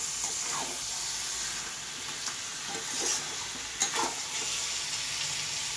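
Mutton curry being stirred in a pot with a spatula, soft scraping strokes over a continuous sizzle and hiss from the frying food.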